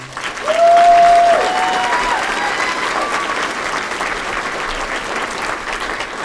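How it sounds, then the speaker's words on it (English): Audience at a Roanoke community rally giving a round of applause for an NAACP president, dense sustained clapping with a brief voice at the start, holding steady to the end. "If you give her a round of applause."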